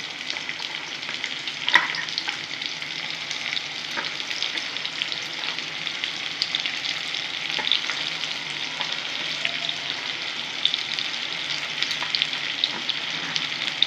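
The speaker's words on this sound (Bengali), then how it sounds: "পেঁয়াজটাও একটু আমি ভেজে নেবো।" Chopped onions fry in a little oil over tempered spices for a Bengali topse fish tel jhal, giving a steady, moderate sizzling hiss with scattered small pops throughout and no talking.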